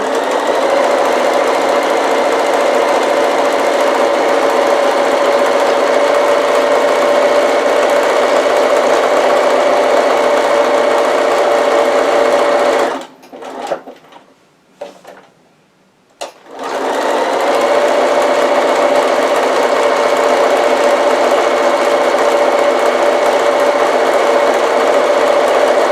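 A sewing machine runs steadily for a long zigzag stitch down the side and across the bottom of a fabric half-zip pouch, breaking off briefly partway with a short near-silent pause before resuming the same continuous whir. No one talks.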